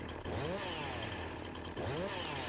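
A chainsaw in the farming video game Farming Simulator 19 revs in two rising bursts, a buzzing two-stroke whine that climbs and falls, heard up close without talk.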